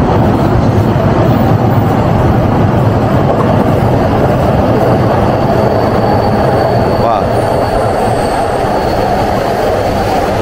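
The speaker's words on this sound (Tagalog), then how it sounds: "Ito may isa pa local train, no?" A Tokyo local train passes close by with a loud continuous rumble of wheels and carriages, a faint whine of squealing wheels rising toward the end.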